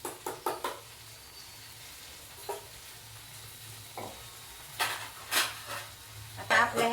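Fish curry masala in a pan, giving a quiet steady sizzle with bursts of stirring and clinks of utensil on pan, scattered irregularly and heard close up, with no talk.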